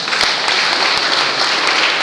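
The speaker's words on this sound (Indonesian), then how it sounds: "Tepuk tangan untuk Tuhan Yesus." Applause from a church congregation during a Sunday morning service, a dense, steady wash of many hands clapping, loud and close, with a few sharper claps standing out in a loose rhythm.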